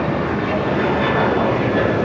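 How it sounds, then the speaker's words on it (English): A United Boeing 787 Dreamliner heavy jet arrives at LAX on the south side, its engines giving a loud, steady broadband roar across the whole moment, with voices talking over it. "We have a heavy arrival here on the south side. United 2445, the Dreamliner from Newark."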